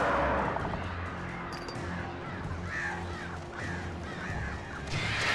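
Crows cawing in the video game Alan Wake Remastered, a series of harsh, repeated caws spaced across the scene over a dark, rumbling background, loud and close.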